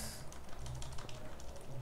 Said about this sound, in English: press the Windows key and letter E on the keyboard